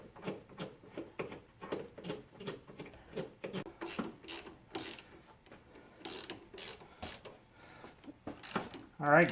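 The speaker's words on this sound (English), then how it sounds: "One thing I'd highly recommend investing in is these ratcheting wrenches." Ratcheting wrench tightening a motor mount bolt on a 2007 Nissan Altima, a steady run of close, quick clicking pawl strokes in short bursts, with a voice speaking briefly.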